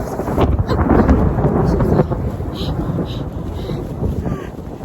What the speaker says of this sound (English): So, it started hailing earlier.